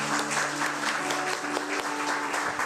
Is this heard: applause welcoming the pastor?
yes